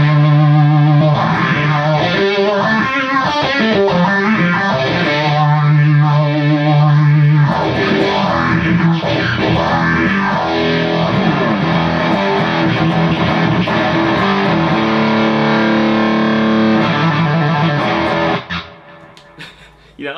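Electric guitar played through a fuzz pedal, thick distorted sustained notes and chords ringing loudly and continuously before cutting off near the end.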